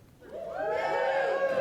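Scattered applause and cheering from a convention comedy show audience, starting thin and swelling into a steady burst of clapping and crowd noise.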